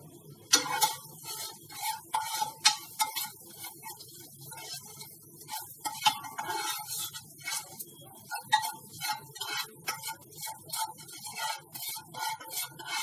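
Kashmiri red chili, salt and spices being stirred in oil in a pan for Sindhi kadhi, with steady scraping and clinking strokes over a soft sizzle, close and moderately loud throughout.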